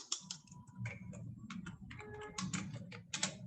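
Typing on a computer keyboard during an HTML coding lesson, a steady run of close, quiet key clicks with brief pauses, heard alone without talk.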